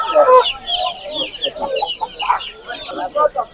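Roosters and hens cluck and call in quick, overlapping bursts at the Sabunchu poultry market, close and loud, with a busy crowd murmuring behind them.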